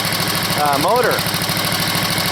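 The small gas engine of a $10 garage-sale leaf blower idles steadily as it warms up, a close, continuous low throbbing. A brief rising tonal sound briefly overlaps it.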